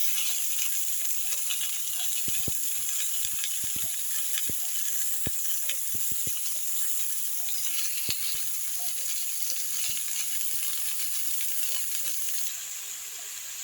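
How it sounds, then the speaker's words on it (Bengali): Mixed vegetables fry in a pan, giving a continuous loud sizzle with scattered sharp clicks of stirring, close up and with no talk. "এখন আমি এগুলো একটু ভাজা ভাজা করব, খুব বেশি ভাজবো না, শুধু ভাজবো"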